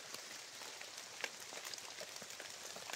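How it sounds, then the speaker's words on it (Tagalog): Steady rain falling, a soft continuous hiss with scattered drops, fairly faint and even throughout. "Dahil medyo humina na yung ulan."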